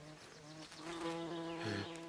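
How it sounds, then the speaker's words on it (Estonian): A wasp buzzing close by, a steady droning hum that wavers in pitch and swells louder toward the end, heard alone without speech. "Heino, kas sulle herilane kõlbab või?"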